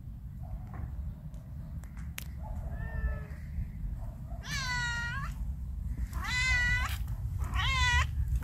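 Domestic cat meowing close by, three clear drawn-out meows with a fainter chirp before them, over a steady low background hum.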